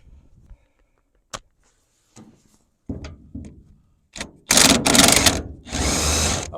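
Wrenching bolts out of the underside of a John Deere 55 engine outdoors in freezing cold, heard as scattered metallic clicks and ratcheting bursts that build into loud, sustained mechanical rattling near the end.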